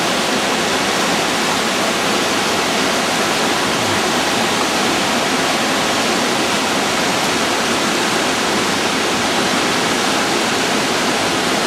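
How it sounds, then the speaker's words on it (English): The Huarampa River rushes along the Royal Inca Trail in Peru, a loud, steady broadband roar of fast-flowing water that continues unbroken and close by, with no voices. "The Huarampa River."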